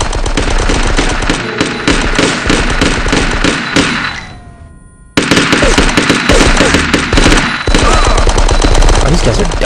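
Loud, sustained automatic gunfire in the video game Die Hard: Nakatomi Plaza, with rapid overlapping shots and a brief break before the firing resumes.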